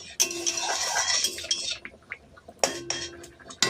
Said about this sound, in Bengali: স্বাদ অনুযায়ী লবণ দিয়ে আবার একটু নাড়াচাড়া করে নেব